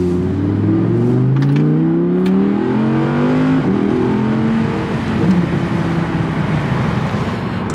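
A first-generation Audi R8's V10 engine revs up several times, the pitch climbing and dropping in loud, close sweeps before settling into a rough idle-like rumble, with no one speaking.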